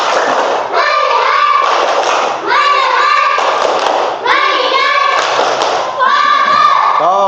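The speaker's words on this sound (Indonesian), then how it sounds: "Tepuk fokus." Schoolchildren in a primary maths class perform the 'tepuk fokus' clapping chant, with loud, rhythmic voiced chanting and claps in steady repeated phrases that continue throughout.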